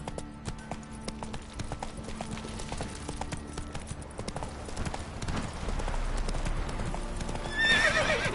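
A horse's hooves clip-clop at a rapid gallop in The Witcher 3: Wild Hunt, alongside snorts and a whinny near the end over a steady rushing background, with no talking.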